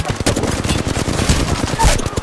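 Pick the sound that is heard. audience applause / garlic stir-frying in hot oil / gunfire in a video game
gunfire in a video game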